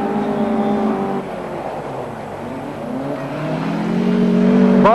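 A 1984 rally car in a national rally sprint pulls hard up a 1.7 km hill climb, its engine drone loud and steady, pitch holding then rising again as it accelerates, with no voices.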